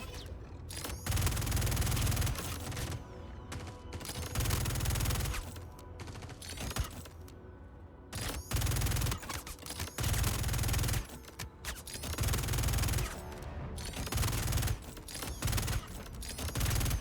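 Bursts of light machine gun fire in the Star Citizen 4.0 contested zones, firing in repeated rapid stretches with short pauses between, loud and close throughout a long firefight.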